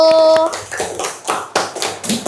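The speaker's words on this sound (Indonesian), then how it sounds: "Berikan tepuk tangan buat kelompok 1" A class claps for group 1 after its presentation, a few loud, close hand claps in uneven bursts following a brief held tone, with a voice briefly heard.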